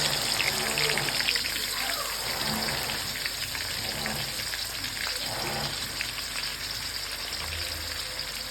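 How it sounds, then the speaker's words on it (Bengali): Pieces of chicken fry in hot oil with ginger-garlic paste in a kadai, producing a steady, moderately loud sizzle with faint crackles throughout. "এবার এক এক করে মাংস লাল করে ভেজে নেওয়ার জন্য ছেড়ে দেবো"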